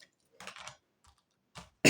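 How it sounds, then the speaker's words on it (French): A few soft coughs or throat noises with gaps between, then a loud, sharp burst at the end, close to the mic. "Excusez-moi, je tousse un peu en ce moment."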